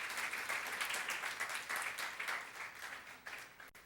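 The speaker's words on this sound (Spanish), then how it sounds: "Démosle un aplauso al Señor." A church congregation applauds during a service, a soft, steady wash of clapping from many people that continues evenly and begins to thin out near the close.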